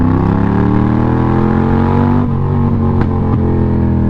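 A 2020 Yamaha MT07 motorcycle with a straight-through exhaust and no baffle runs loud and close, its steady engine roar shifting pitch with throttle changes and a few sharp pops near the end.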